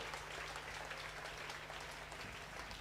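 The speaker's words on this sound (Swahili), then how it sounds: "So clap our hand to Jesus" Church congregation clapping hands together during worship, a steady dense patter of applause at a faint, distant level throughout, with a low sustained hum underneath.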